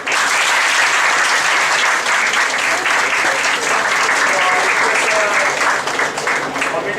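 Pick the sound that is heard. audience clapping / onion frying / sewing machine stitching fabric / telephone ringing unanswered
audience clapping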